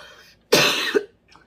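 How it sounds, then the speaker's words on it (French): A single loud, close cough, one harsh burst lasting about half a second and ending in a short throaty catch, with quiet before and after. "J'essaye de faire une vidéo où je ne tousse pas, mais il n'y a pas moyen."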